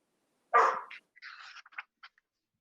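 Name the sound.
dog barking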